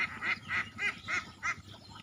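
Ducks on a duck farm quacking, a run of about six rhythmic nasal quacks close by in quick succession, with no talk.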